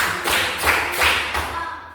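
A group of people claps together in a counted clapping game, several broad hand claps landing in a steady rhythm, loud and close, with a fading tail at the end.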